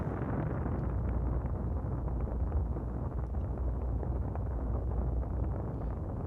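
Spaceship engine exhaust in the space strategy game Nexus: The Jupiter Incident, a steady, dense roaring rumble like rushing wind that holds loud and unbroken throughout.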